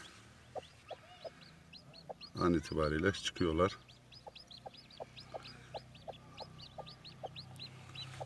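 Soft clucking and peeping of a turkey hen with newly hatching chicks, close by, with a louder burst of hen vocalizing in the middle and a voice speaking.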